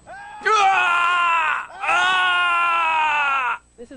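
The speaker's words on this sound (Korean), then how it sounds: "자, 여기 카드 받고 비명을 질러." A soldier acting as a simulated casualty in a military combat training exercise lets out two long, loud, strained screams in quick succession, close and piercing, followed by a short faint sound.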